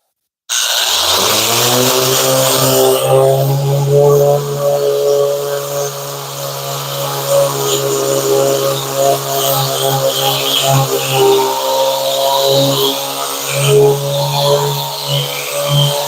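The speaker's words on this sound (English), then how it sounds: "So I'll use my sander." An electric power sander runs steadily on wood in a home woodworking shop, a loud continuous motor whine with shifting grinding texture as it is pressed and moved across the surface, starting abruptly and continuing throughout.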